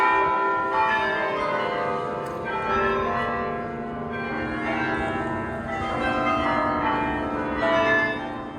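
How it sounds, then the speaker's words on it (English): Carillon bells in Belgium play a continuous melody, with overlapping ringing tones sustained and fairly loud, sounding alone without voices. "the next time you're walking down the street and you hear bells ringing out of tune, now you know how it's done"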